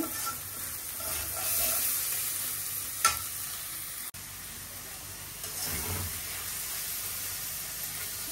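Masala sizzling and being stirred in a pan as coconut milk goes in for a prawn malai curry, a steady frying hiss with scraping strokes and a brief clack, no talk.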